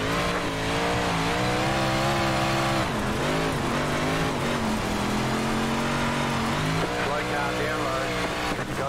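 Big Block Modified race car engine roaring continuously on the dirt oval at Kokomo Speedway in the iRacing game, loud and close, with pitch rising and dipping through revs and lifts as the car slides through corners.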